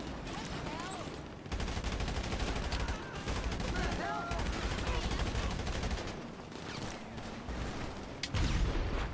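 Gunfire in the video game GTA Online on PS5, rapid continuous bursts of automatic shots with brief pauses, loud and dense throughout, with a player's voice talking over it.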